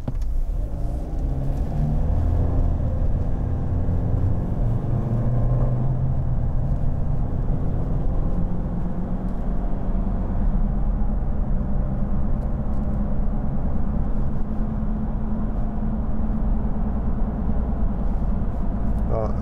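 A 2015 Nissan Navara 2.5 dCi on the move, its near side wheel bearing droning as a steady low road rumble and hum beneath continuous engine and tyre noise from inside the cabin.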